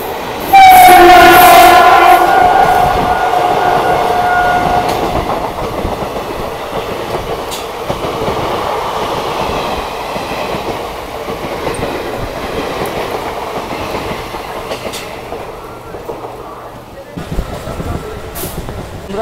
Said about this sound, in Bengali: বন্ধুরা আমার ট্রেন এখন ঢুকছে মেচিদা রেলওয়ে স্টেশন।